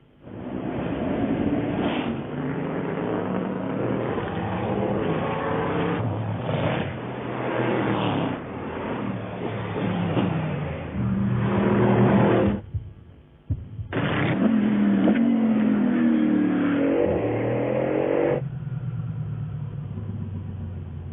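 A Bugatti Bolide hypercar engine roars and climbs through the gears under hard acceleration on a race track, with rising pitch sweeps, brief shift breaks and a steady loud drone inside the cabin.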